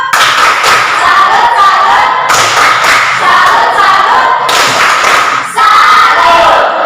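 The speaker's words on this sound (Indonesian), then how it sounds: "Mari kita berikan tepuk salut untuk mereka." An audience claps a rhythmic salute in unison at a university teacher-training performance exam, loud repeated claps in patterned bursts with a few brief pauses.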